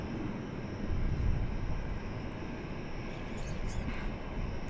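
Steady broadband jet roar from an airplane on the runway at DFW Airport, a continuous wash of engine noise swelling slightly early on and holding at a moderate, distant level with no talk.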